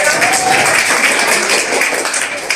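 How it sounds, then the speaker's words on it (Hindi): Loud clapping from a group of school students welcoming a classmate, a dense burst of applause that fades slightly toward the end. "जोरदार ताली के साथ स्वागत किया जाएगा"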